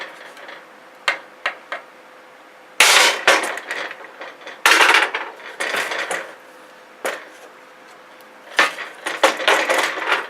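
A hammer drives a small screwdriver to punch nails out of pallet wood: sharp, close metallic strikes in irregular clusters with brief rattles between them.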